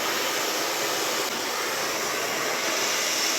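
A magnetic blow dryer runs at a constant, dense airy whoosh, loud and close, holding steady without pauses and with no voices.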